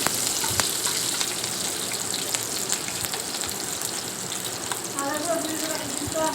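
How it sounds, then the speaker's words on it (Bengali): Sliced onions frying in a hot pan for chilli chicken give a steady, dense sizzle with crackling pops that stays close and fairly loud throughout, brightening slightly near the end. "মিডিয়াম সাইজ করে কেটে রাখা পেঁয়াজ আমি এখানে দিয়ে দিয়েছি।"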